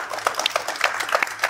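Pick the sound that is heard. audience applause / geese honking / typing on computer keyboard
audience applause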